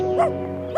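A pack of dogs barking and yelping while chasing a jackal through village lanes, heard as a short, close burst of whining, yipping cries.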